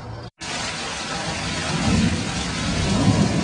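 Light rain falls over a no-till organic garden planted on a former parking lot, a steady soft hiss of drops that grows slightly denser and louder toward the end after a brief gap at the start.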